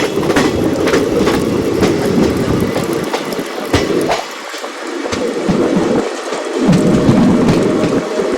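Wheels of a Mumbai–Chennai express train rumble and clatter steadily on the rails, a loud continuous rushing roar with rhythmic clicks, no voices.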